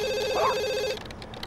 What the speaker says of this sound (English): the old phone by the front door begins to ring